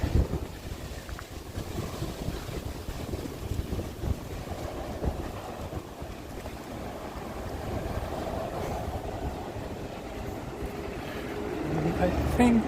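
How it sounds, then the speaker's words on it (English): Wind blowing outdoors near the river at Futako-Tamagawa in Tokyo, a steady broadband rush with buffeting gusts against the microphone throughout, rising slightly near the end. "This area is often quite windy."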